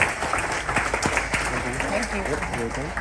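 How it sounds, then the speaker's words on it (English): Cruise ship audience applauding in a large venue aboard the Sky Princess, a steady, dense wash of clapping held close and even for a few seconds, with faint voices mixed underneath. "applause for yourself, please, of staying with us"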